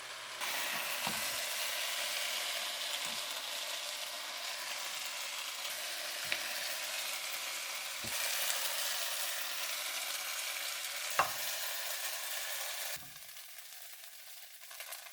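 Shrimp and cellophane noodles sizzle steadily in a hot pan as they are stirred together, with occasional clanks of a utensil against the pan, and the frying turns quieter near the end.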